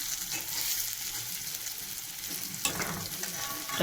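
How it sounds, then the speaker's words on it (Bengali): Fritters (bora) frying in hot oil give a steady close sizzle, with a brief stir or turn adding a burst of crackling near the end. "তো খুব সুন্দর লাল লাল ভাজা হয়েছে, আমি এরপর তুলব।"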